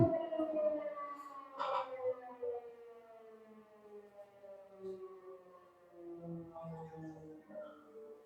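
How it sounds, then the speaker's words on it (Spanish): A noon siren sounds at midday, a long wailing tone with steady harmonics that slowly falls in pitch, heard at some distance with a brief voice over it. "Aquí está sonando la sirena de las 12"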